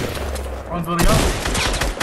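Rapid bursts of gunfire in the video game Fortnite, loud and dense throughout, with overlapping shots and game effects under excited voices talking.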